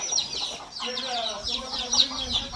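Free-range country chickens kept alongside cows on a dairy farm, clucking repeatedly up close in an overlapping, chattering run, with low background noise underneath.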